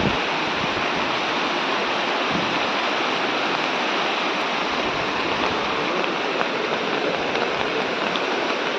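A river in a village orchard area, shallow water, flows in a steady, dense rush that fills the whole stretch, continuous and fairly close with no voices over it.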